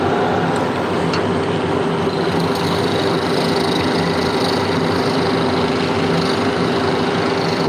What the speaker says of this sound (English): I need to turn on the dust collector.